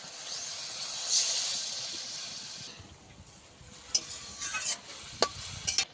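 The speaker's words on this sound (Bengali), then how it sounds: "এবার জল দিয়ে দেবো।" Water poured into a spiced pan of kulekhara greens with cumin gives a loud steady hiss that fades, then light stirring scrapes and taps follow.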